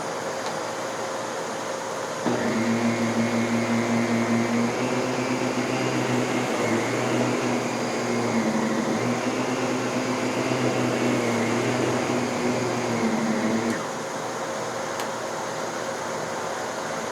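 A Miele canister vacuum cleaner at maximum power during a baking soda pickup test, a steady close motor drone that switches on after a quiet start, runs evenly, then cuts off near the end.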